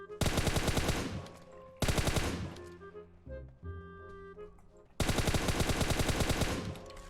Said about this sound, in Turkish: Bekle biraz daha mermi atayım.